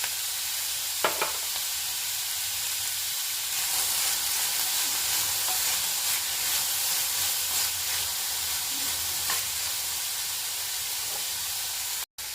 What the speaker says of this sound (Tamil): இப்போ நல்லா கலரி கொடுத்துட்டு மூடி வச்சு வேக விடணும்